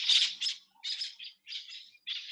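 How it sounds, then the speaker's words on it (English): Birds calling outdoors during a quiet indoor yoga session: a series of about five bright, chirpy squawks in short bursts with brief gaps, moderately faint and heard alone. "With our bird friends outside."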